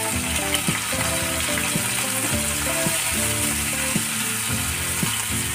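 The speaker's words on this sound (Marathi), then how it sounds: "थोडासा गोल्डन ब्राऊन होईपर्यंत कांदा फ्राय करून घ्यायचा" Onion with a pinch of salt frying in a pan for egg bhurji, a loud, dense, continuous sizzle close up, with no talk.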